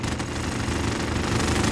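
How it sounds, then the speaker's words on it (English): A minigun roars in Call of Duty: Warzone, a dense continuous burst of rapid gunfire that fills the whole moment at steady, loud intensity with no pauses. "This minigun almost killed his ass right there."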